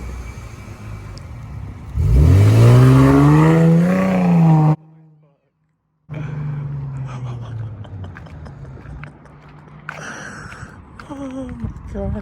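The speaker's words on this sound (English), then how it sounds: "I just want to hear the exhaust. I just need a flyby." A car with a Pedal Commander set to sport mode roars past in a loud flyby, its exhaust revving and rising in pitch for a few seconds before cutting off. The engine returns as a lower steady drone, with people talking over the tail end.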